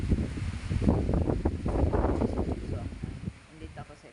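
Gusty typhoon wind buffets a microphone in uneven bursts, rumbling loudly then easing off toward the end.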